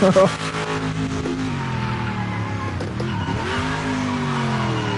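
A Mosler N-GT race car in Project Motor Racing at Bathurst, its engine revved hard after stalling, giving a loud, steady drone with rising and falling pitch sweeps and a brief tire squeal, alone without talk.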